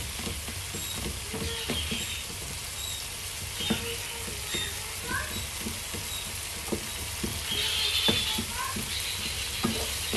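Rougail sausage cooking slowly in a pan, a soft continuous sizzle and crackle with scattered pops and occasional light stirring scrapes, moderately quiet and steady.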